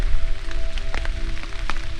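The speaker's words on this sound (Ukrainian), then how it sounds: "Пішов дощ." Rain falls on a tent roof during an evening camp in a national park, a close, steady patter with scattered louder drops striking the fabric over a low rumble.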